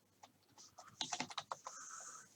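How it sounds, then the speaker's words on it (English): Quiet, close typing on a computer keyboard, a quick irregular run of key clicks ending in a short held tone. "I'll just type it in."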